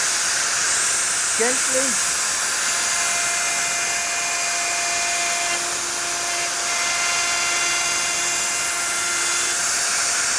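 A woodworking router runs along a straight-edge jig as a steady, loud, high whining hiss that carries through the whole stretch, with a brief spoken word near the start.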